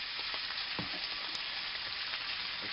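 Onions cooking down in a pan, giving a steady, even frying hiss with a few soft crackles and stirring taps, close and continuous with no voices.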